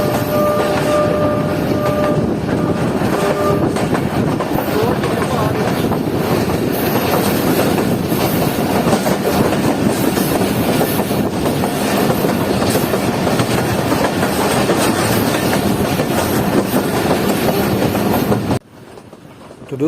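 Pakistan's 12 Down Hazara Express runs at night on the Lalamusa–Shorkot branch line as it pulls into Malakwal Junction, a loud, steady rumble and clatter of wheels and carriages with faint horn tones early on, ending abruptly.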